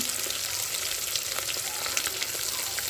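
A handful of cashews frying in ghee in a pan, with a few dried red chillies, giving a steady, close, loud crackling sizzle throughout with scattered sharp pops and no voices.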